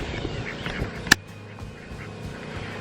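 Two farm ducks kept alongside chickens quack in several short, fairly close calls near the start, with one sharp click in the middle and a quieter, steady background after it.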